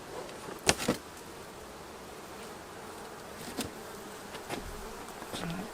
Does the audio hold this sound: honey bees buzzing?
yes